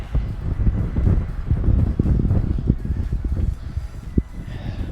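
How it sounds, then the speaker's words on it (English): Gusty wind buffets the microphone on a Colorado mountain trail, a rough, rumbling roar rising and falling in strength with a sharper gust near the end. "Wind's picking up"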